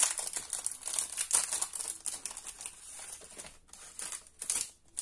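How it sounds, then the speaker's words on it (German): A handmade gift being unwrapped, with dense crinkling and crumpling of packaging material, close and fairly loud, in bursts with short pauses. "Das muss ich aber auch mal auspacken, sonst können wir es nicht so schön erkennen."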